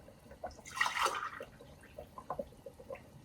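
Coconut milk is poured into a pot of mutton biryani in a short, soft splashing burst, followed by faint trickles and drips in a quiet kitchen.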